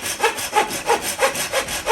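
A folding hand saw draws back and forth through wood in six quick, even strokes, each one a close, rasping scrape.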